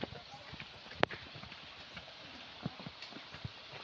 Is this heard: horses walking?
yes